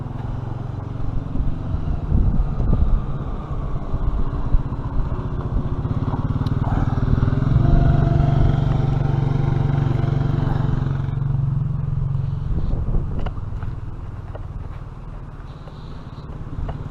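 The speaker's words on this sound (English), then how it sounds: "She enjoys riding around on the ATVs." Honda ATV engine while riding, a continuous loud rumbling drone with rattling and clatter that swells midway and then eases off, with voices faintly underneath.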